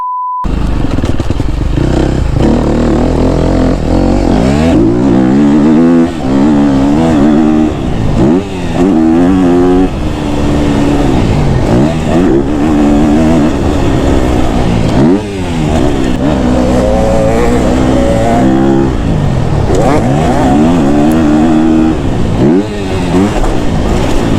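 A new KTM 250 SXF dirt bike engine is ridden hard through corners, snarling loudly and steadily with repeated surges and drops in revs as the throttle opens and closes, close up throughout.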